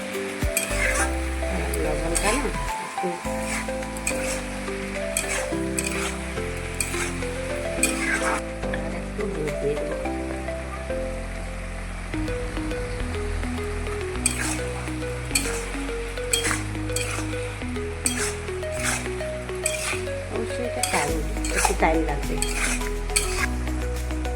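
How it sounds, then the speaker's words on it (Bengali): Bottle gourd vegetable stirred in a pan, with a continuous sizzle under repeated spoon scrapes and knocks against the pan, close and steady over a background hum. "আমি সবজিটাকে নাড়িয়ে চাড়িয়ে তারপরে লবণ দেবো"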